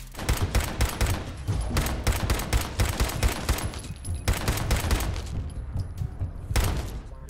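Repeated loud shots from a modded short-range rifle in Fallout 4, firing in quick bursts of heavy booming reports with short gaps between volleys, close and dominant.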